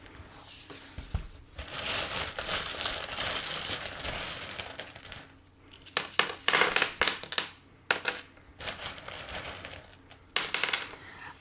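Small divination charms are cast and handled, giving bursts of clinking, rattling and tumbling that resemble dropped coins, close up, in several separate clusters with short quiet gaps, with no talking.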